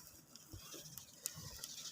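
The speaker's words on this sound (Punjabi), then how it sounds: "ਬਾਰਿਸ਼ ਆ ਗਈ" Faint, sparse patter of raindrops tapping irregularly against a surface in a quiet setting.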